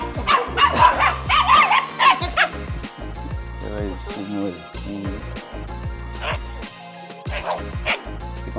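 A Belgian Malinois shepherd dog barks loudly and close by in rapid, uneven bursts, mixing sharp yips and short whimpers between the louder barks.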